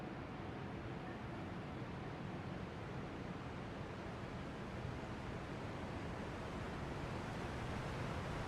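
Rushing waterfall in the Elden Ring: Shadow of the Erdtree video game, a steady broadband roar of falling water that stays even and unbroken throughout, with no voices.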